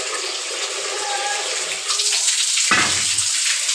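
Chopped ripe mangoes are washed under a running tap, a steady rush of water that brightens midway and ends in a brief splashing burst, with no voices over it.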